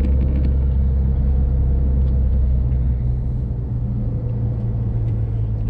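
A car drives through the city streets of Brisbane's Fortitude Valley, heard from inside as a loud, steady low engine and road rumble that holds constant throughout with no talk.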